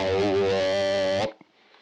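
A distorted guitar tone run through an effects unit holds a thick, harmonically rich sustained note for over a second, then cuts off abruptly into near silence with a faint trailing thump.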